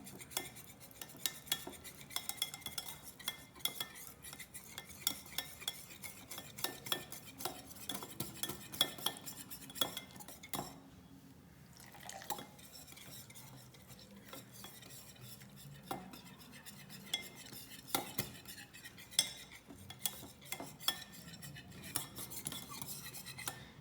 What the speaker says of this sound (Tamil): நல்லா கட்டியெல்லாம் எதுவும் இல்லாமல் நல்லா கலந்துக்கோங்க.